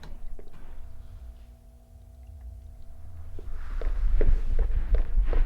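Footsteps wade and splash through water in a dark Backrooms video game level, starting faint then growing into a close, steady run of sloshing steps over a low rumble.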